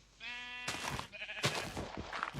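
A sheep in Minecraft bleats once with a clear, buzzy tone, followed by a few soft game clicks and scuffles, close and alone without talk.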